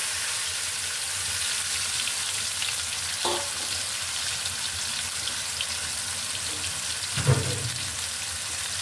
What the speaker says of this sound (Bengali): এখানে আমি মাছটা এখন ঢেলে দিব।